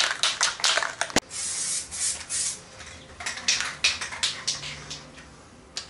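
Spray gun laying a third coat of paint on a Nissan Skyline R33 GTST Type M front bar: close, hissing bursts of spray in irregular short passes, with no voices.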